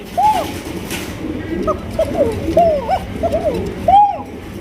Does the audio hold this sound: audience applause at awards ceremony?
no